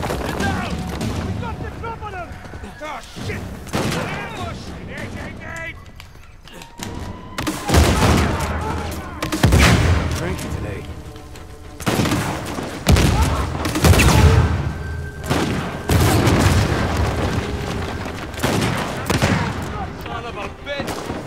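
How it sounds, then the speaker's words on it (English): Grenade launcher blasts and bursts of gunfire in an action-adventure shooter, several loud explosions and rapid gunshots spread over about twenty seconds, with gaps between the heavy bursts. "it's a good thing I have a grenade launcher"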